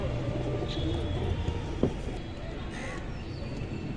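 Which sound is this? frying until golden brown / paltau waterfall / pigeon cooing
pigeon cooing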